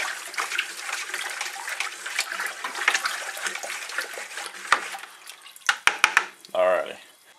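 Baking soda is stirred into water in an electrolysis tank for cleaning relics, giving a continuous close sloshing and swirling, followed by a few separate splashes and drips as it settles.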